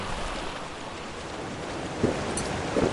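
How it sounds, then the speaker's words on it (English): A small water stream in Ark: Extinction burbles as a soft continuous rushing wash, with a couple of brief splashy bursts near the end, no speech. "Nice little water stream."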